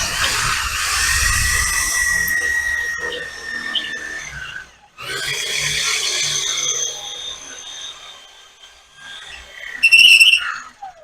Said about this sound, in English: Let me drill some holes.